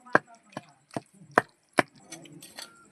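Roti chutney with chillies pounded by hand in a stone mortar, five sharp, hollow thuds in an uneven rhythm, close and loud, followed by softer scraping knocks.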